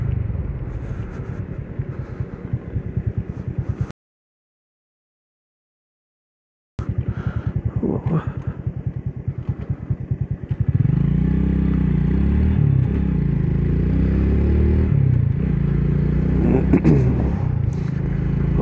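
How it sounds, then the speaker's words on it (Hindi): A motorcycle with drum brakes slows from 40 km/h to a stop using only the rear brake. A steady engine rumble cuts out briefly, then returns with louder, uneven engine noise and wavering tones as the bike comes to a halt. "मैं रेयर ब्रेक का अप्लाई करके बाइक को स्टॉप करूँगा।"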